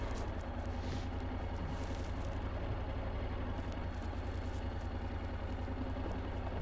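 A Honda NC750X DCT motorcycle rolls slowly along a forest road, its engine a steady low idle-like rumble with faint clatter throughout, close and continuous with no talk.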